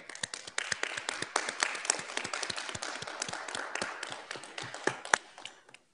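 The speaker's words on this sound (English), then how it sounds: "Let us give them all a big round of applause." Dense applause from an audience at a session of the Intangible Cultural Heritage Committee, honouring interpreters and technicians: many overlapping claps at steady strength for about six seconds, easing off near the end.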